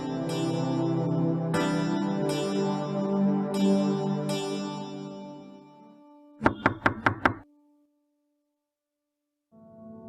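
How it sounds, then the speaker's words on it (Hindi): A quick burst of about five sharp knocks on a door in a Pakistani TV drama, close and loud, following a stretch of sustained music and then dropping into silence. "नताशा, दरवाजा खोलो।"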